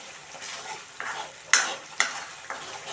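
Masala frying in oil for a spicy eggplant curry: a spoon scrapes and stirs the pan in a few sharp strokes over a constant close sizzle, with no speech.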